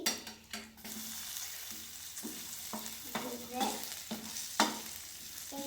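Garlic and onion fry in a pan, a moderate sizzle broken by repeated scraping strokes and clacks of a spoon stirring against the metal, close and clear with no talk.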